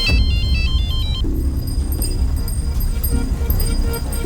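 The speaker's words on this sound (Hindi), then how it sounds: "फोन आ रहा है आपका, फोन तो उठाइए।" A mobile phone ringtone plays a bright repeating melody for about a second, then gives way to ongoing background sound and music in a Hindi crime drama scene, as an incoming call goes unanswered.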